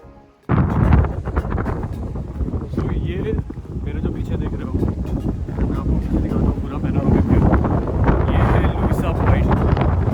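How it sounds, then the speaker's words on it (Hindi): Strong wind at the Matheran hill station viewpoint near Mumbai, roaring and buffeting loudly against the microphone almost throughout, with a person talking under the rush. "काफ़ी तेज़ हवा है, बहुत से महसूस हो रहा है."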